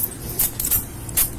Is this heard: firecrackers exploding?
no